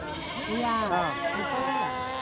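Goats bleat nearby at a weekly livestock market, one wavering, drawn-out call sliding up and down in pitch over a couple of seconds, fairly close and clear.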